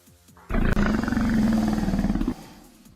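A Eutyrannus dinosaur lets out one long, deep, rumbling roar that swells suddenly, holds for nearly two seconds with a brief break, then cuts off, loud and close in a prehistoric game setting.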